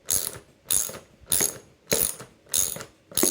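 A ratchet wrench tightens the headrest bolts on a Steelcase Leap V2 office chair, producing six evenly spaced bursts of sharp, rapid clicking up close, loud and clear with no talk.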